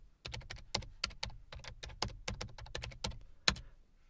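Fingers type a PowerShell command on a computer keyboard, producing a quick, uneven run of crisp keystrokes close by in a quiet room, with no voices.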